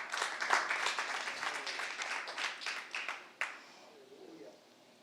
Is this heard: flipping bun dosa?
no